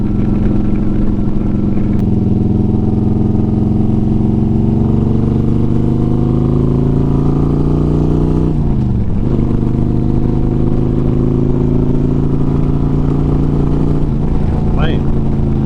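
A 2009 Harley-Davidson Road Glide rides along, its engine rumbling close and loud with a rising pitch under acceleration, a dip around a gear change midway, then climbing again beneath heavy wind noise.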